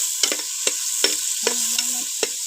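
Onions and tomatoes sautéing in a pan with a steady sizzle, punctuated by a series of sharp, close scraping and clinking strokes as a spoon stirs them at an irregular rhythm.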